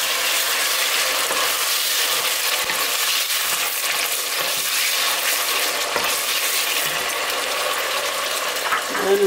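Tomatoes frying in a pot of beef stew with cabbage give a steady, loud broadband sizzle with scattered stirring scrapes and clicks running throughout, no voices.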